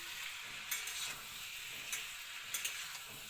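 Mixed vegetables with tomato fry quietly in a pan, a soft continuous sizzle with a few light scrapes from stirring scattered through it, and one quick double scrape near the end.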